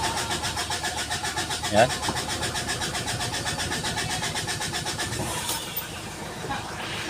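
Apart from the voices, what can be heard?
Mitsubishi Strada 4D56 diesel engine starting after bleeding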